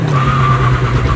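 Maruti S-Cross and Toyota Corolla Altis launching side by side in a drag race, engines droning loud and steady at close range for a brief moment.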